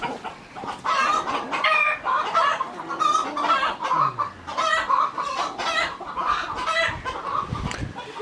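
Chickens in a coop just after an eagle attack cluck and squawk close by in an agitated, irregular stream of overlapping calls that continues throughout, with no talk.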